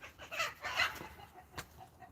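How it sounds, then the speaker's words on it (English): Chickens cluck softly and briefly outdoors in a few short, scattered calls at moderate distance, with no talking. "Chickens are out as well."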